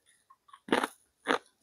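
Two sharp, close crunches of bite into crispy basreng, the fried fish-ball snack, followed by faint chewing clicks, the crunches loud against near silence.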